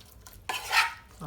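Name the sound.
stirring caramelized apples with raisins in a pan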